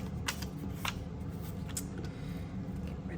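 Scissors snip paper while trimming a window envelope belly band for a junk journal, a few quick crisp cuts spaced irregularly over a quiet close-up background.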